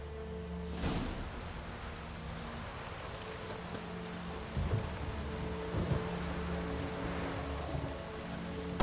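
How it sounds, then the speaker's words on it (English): Steady rain patters on surfaces throughout, with a low rumble of distant thunder and a sharp crack near the start, in the video game The Witcher 3. "It's raining too"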